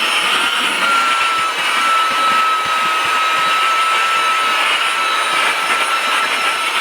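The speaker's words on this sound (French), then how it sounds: "Alors, c'est pas prévu pour aspirer des tapis, hein, on est bien d'accord." A small vacuum cleaner sucks up crumbs inside a van, giving a steady, loud, high-pitched whine with a constant airy rush and no talking.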